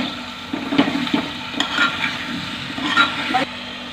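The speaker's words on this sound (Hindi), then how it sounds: "अब हम इसमें ये बैगन ऐड करेंगे। और ये आलू भी मैं ऐड कर रही हूँ इसमें।" Eggplant and potatoes in a pan being stirred, with several scraping stirring strokes over a soft background sizzle of frying, close by and without talk.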